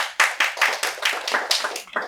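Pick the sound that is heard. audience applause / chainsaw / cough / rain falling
audience applause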